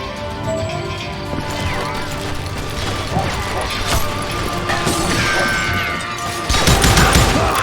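Rapid shots ring out in the Western shooter Call of Juarez: Gunslinger, dense cracks and clattering impacts piling up over a busy mix, ending in a louder burst, with a voice speaking over it.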